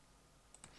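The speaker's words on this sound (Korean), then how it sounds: "이렇게 하고 확인 클릭" Two quick, faint clicks from a computer mouse come close together, followed by a slightly louder click at the very end, over a quiet room background.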